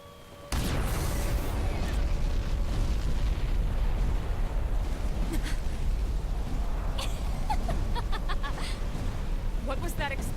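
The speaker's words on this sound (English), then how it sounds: "What was that explosion?" Explosion in the Xenoblade Chronicles X video game, a sudden loud blast that opens into a sustained roaring rumble with scattered crackles and debris, dense and continuous for about ten seconds.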